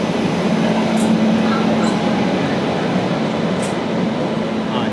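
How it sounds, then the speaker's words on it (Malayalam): Inside an AC chair car of the Gujarat Superfast Express, a steady loud rumble of rail travel fills the air as another train, the Jamnagar Vadodara Intercity Express, comes in alongside, with no break in the continuous roar. "തൊട്ടടുത്ത് കൂടെ വേറൊരു ട്രെയിൻ കൂടെ കയറി വന്നിട്ട്"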